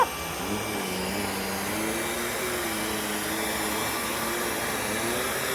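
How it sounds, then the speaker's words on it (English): UWANT V500 vacuum cleaner running steadily on carpet while pulling up fur and hair, a continuous close whine and rushing drone at even loudness throughout. "It's a vacuuming machine."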